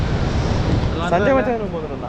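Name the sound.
Athirapally waterfall rushing water in Kerala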